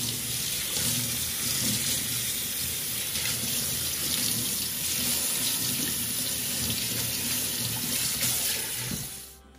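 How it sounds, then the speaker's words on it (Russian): Steady tap water pours and splashes in a sink as salt is rinsed off mackerel split along the backbone, a close, continuous gush that fades out at the end. "И сейчас смываем эту соль."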